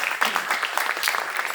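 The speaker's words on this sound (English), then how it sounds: "Please give him a round of applause as he walks in." A press-conference audience at the Jio MAMI Film Festival claps as Rana Daggubati walks in, steady mid-level applause carrying through the whole moment.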